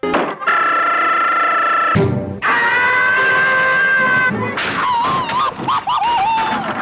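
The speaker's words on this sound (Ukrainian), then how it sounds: "Окремий вид АСМРу в Томі Джері це крики болю від Тома" Tom the cat from Tom and Jerry lets out several long, loud, sustained screams of pain, broken by a thud, ending in wavering yowls.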